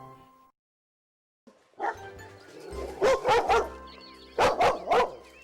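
Dogs bark in close, loud bursts after a brief silence, two quick clusters of barks over a low background rumble.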